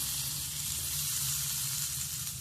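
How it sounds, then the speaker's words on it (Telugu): Curry leaves and asafoetida sizzling in hot oil as a tempering for peanut chutney, a steady close hiss with no break throughout. "పోపుకి పోపు సామాను కరివేపాకు వేసుకొని, ఇంగు వేసుకొని"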